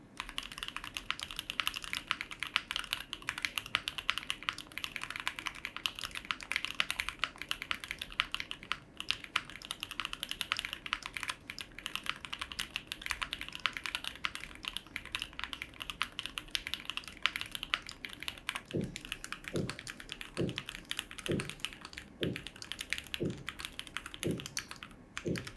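Typing on a gasket-mount mechanical keyboard fitted with a knob and a bottom weight, a dense run of soft clacky keystrokes. Near the end, a quieter series of evenly spaced low thuds joins in.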